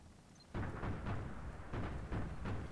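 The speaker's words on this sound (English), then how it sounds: "Danger close barrage here." An artillery barrage in the strategy game Rise of the Reds 1.9 lands as a fairly faint, rapid series of muffled low booms that follow one another about every half second.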